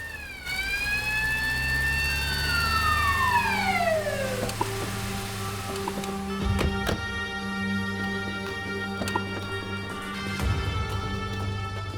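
A police siren wails, sweeping down in pitch, then shifts into a steady two-tone blare, loud and close, with a few sharp knocks mixed in.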